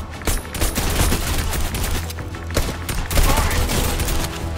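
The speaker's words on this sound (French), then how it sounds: "On me tire dessus, ça spam." Rapid automatic gunfire in the game Fortnite, dense loud bursts of shots running continuously with brief gaps, from a video game soundtrack.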